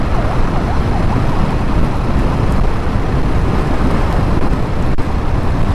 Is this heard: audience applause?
no